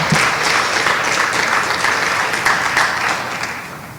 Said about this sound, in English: So you should all give yourselves a round of applause right now